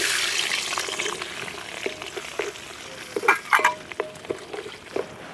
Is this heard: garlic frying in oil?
yes